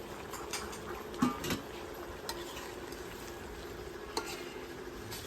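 Cumin seeds dropped into a jute leaf and shrimp curry in a pan, steady frying sizzle with a few scraping stirs and clinks of a spoon, close and continuous.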